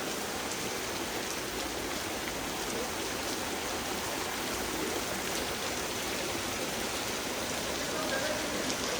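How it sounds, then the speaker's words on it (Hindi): Steady heavy rain pours outdoors at a hillside fort in Chittorgarh, a dense continuous hiss of drops on surfaces with no break, fairly close and even in loudness throughout. "बरसात हो रही है।"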